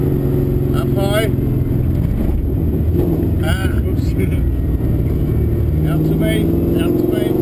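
A V8 race car engine roars continuously on a hot lap at Pukekohe in Auckland, rising and falling through gear changes and braking, with heavy wind noise and a voice talking over it.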